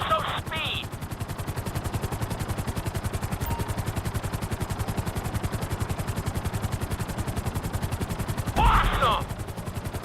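A helicopter flies in the video game GTA V, its rotor chopping in a rapid, steady pulse at moderate volume throughout, with brief bright bursts of other game sounds near the start and end.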